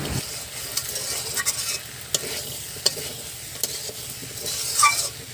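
Soaked peas are stirred into raw jackfruit frying in a little oil, giving a steady sizzle with repeated scraping stirs and occasional clacks of the spoon against the pan.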